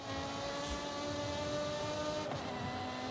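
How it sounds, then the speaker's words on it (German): A car engine in the racing game Forza Horizon 5 holds a steady, quiet drone with sustained tonal harmonics and a brief shift midway, with no talking. "das Auto hört sich auch so klasse an"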